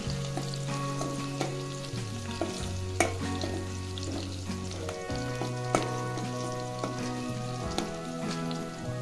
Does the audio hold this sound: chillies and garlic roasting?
yes